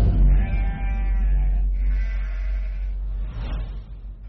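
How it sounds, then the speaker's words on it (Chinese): Lambs bleat from a sheep pen beside a farmhouse courtyard in a mountain village before dawn: two long, drawn-out, wavering cries close by, then a shorter third call, over a low rumble of background noise. "这天早上羊羔的叫声有点特别"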